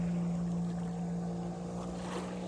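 A Naiad boat's engine runs steadily on Lake Champlain, a close, constant low drone with a strong steady hum, wind and water faintly beneath it and no voices.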